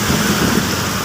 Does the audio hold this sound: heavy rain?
yes